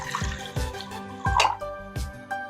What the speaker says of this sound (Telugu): స్టవ్ ఆన్ చేసేసుకొని వాటర్ వేసుకోండి.